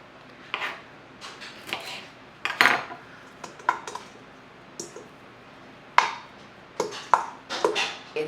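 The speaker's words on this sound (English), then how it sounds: "I'm just gonna throw everything into my mixing bowl here" Chopped broccoli and other pantry vegetables tossed into a mixing bowl, making a run of close, scattered clatters and dull knocks against the bowl, spread irregularly across a quiet kitchen with no voice.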